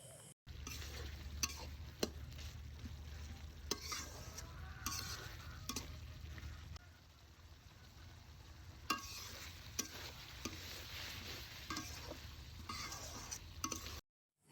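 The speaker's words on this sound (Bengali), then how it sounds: "এভাবেই কিছুক্ষণ কষিয়ে নেবেন" Fish curry with eggplant and potato stir-fried in a pan. Continuous close sizzling with repeated scraping stir strokes and occasional metallic clinks, no talking.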